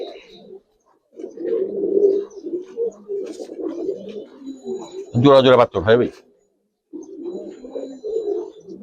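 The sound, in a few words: pigeons cooing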